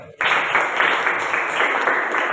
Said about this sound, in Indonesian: Tepuk tangan untuk Darul